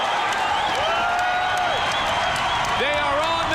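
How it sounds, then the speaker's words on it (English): Crowd roaring and cheering at a UFC fight at the Cox Pavilion, a dense sustained wash of noise with a commentator's voice talking loudly over it. "Listen to the crowd react."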